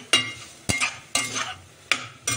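Spring onion greens stirred in hot spiced oil for a Khandeshi brinjal bharit, a spoon scraping the pan in four or five sharp strokes over a soft, steady sizzle, close and fairly quiet.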